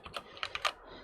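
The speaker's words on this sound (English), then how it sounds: "Sorry about my loud keyboard." Rapid typing on a loud computer keyboard, a short close burst of clacking keystrokes in quick uneven succession, heard alone.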